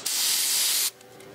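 A single close burst of solvent cleaner sprayed onto a flywheel during clutch work on a 1998 Mazda B2500, a loud hiss lasting under a second before cutting off sharply.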